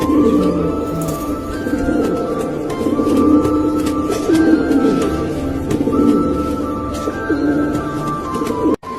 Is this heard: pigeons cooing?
yes